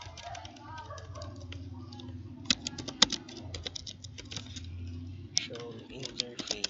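Keystrokes on a computer keyboard as a command is typed during a network lab, a few sharp clicks scattered among steady speech that runs throughout the clip.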